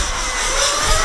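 A nitro RC car engine at a 200mm racing final buzzes loudly and close, a high, rough whine that holds steady and rises slightly in pitch over about a second.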